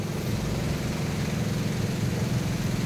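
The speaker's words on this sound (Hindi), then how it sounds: "कपड़े मैंने वॉशिंग मशीन में लगा दिए हैं" A household washing machine washing clothes, giving off a quiet, steady low hum with a faint rhythmic churning pulse that runs continuously without a break.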